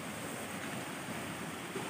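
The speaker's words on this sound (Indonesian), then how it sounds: "kita menelusuri aliran yang ada depan saya itu ada sungai" Muddy river water swollen by the rainy season rushes in a steady, unbroken wash that stays even and fairly close throughout.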